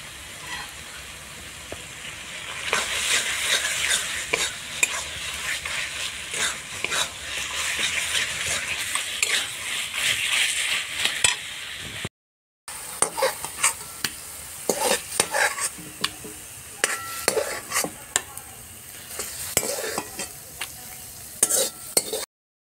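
Cooked taro leaves with chana stirred with ghee in a pan, a close, busy sizzle with frequent spoon scrapes and clacks, broken by a brief silence partway through.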